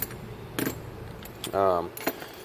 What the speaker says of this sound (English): Little keys for the die grinder or the cutoff.